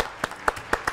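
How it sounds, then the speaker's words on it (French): Several distinct claps, about four sharp hits, from a small studio audience on a French television show greeting Hugo, a 23-year-old actor in the play Le Captif; close and fairly quiet, with no voices. "Applaudissements pour Hugo."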